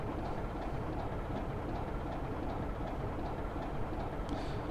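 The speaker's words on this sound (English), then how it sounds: "I'm driving a train here." A BR Class 25 diesel locomotive runs steadily on the Weardale & Teesdale line, a continuous close rumble with a dense engine drone and faint rhythmic clatter throughout.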